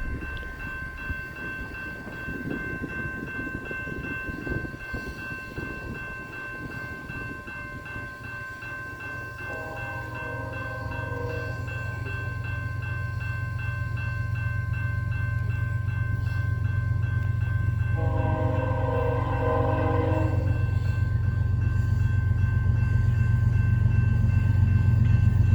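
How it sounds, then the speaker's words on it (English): Canadian National mixed auto-rack and intermodal freight train passing in Schoolcraft, Michigan, a steady rolling rumble that builds louder over time, with brief squealing wheel tones twice along the way. "This train was a mixed auto-rack / intermodal."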